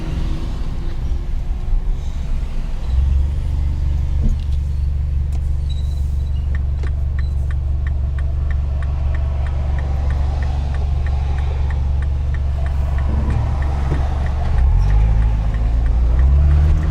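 A 2010 Mini Cooper S R56 with an Invidia Q300 exhaust driving, a steady low engine drone and road rumble from inside the car, swelling briefly near the end.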